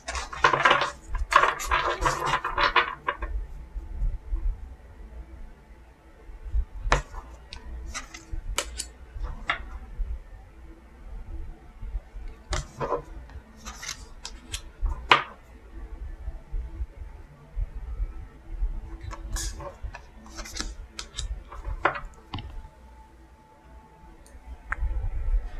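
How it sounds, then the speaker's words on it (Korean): Tarot cards being drawn and laid out for a weekly fortune reading, heard as scattered soft clicks and light taps, close and quiet, spread across a mostly still stretch with a louder shuffling burst at the start. "카드 나열해보도록 하겠습니다."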